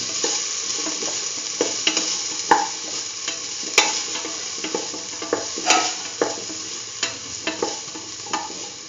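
Chayote pieces stirred in a sizzling pan, repeated close scraping strokes and soft clacks of a spatula over a steady frying hiss, loud and rhythmic, no talking.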